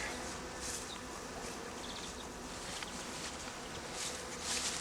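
A honeybee swarm moves into a hive with a dense, continuous buzzing hum of many bees, fairly faint and even, with occasional louder passes of individual bees.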